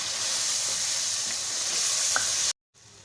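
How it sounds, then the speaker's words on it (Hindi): Spices being mixed into chicken malai handi in a pot, a loud continuous sizzle with faint scraping from stirring, cutting off abruptly near the end before a quieter hiss resumes. "अच्छी तरह से मिक्स करना है मसाले में।"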